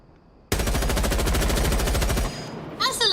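Rapid automatic gunfire in a video game, a loud sustained burst of evenly spaced shots lasting about two seconds with heavy recoil, then a brief pause and a short voice at the end.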